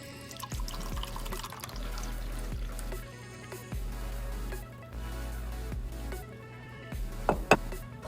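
A cup of vinegar pours steadily into a garbage disposal in a kitchen sink over baking soda, a running liquid gurgle with a few sharper splashes and drips near the end.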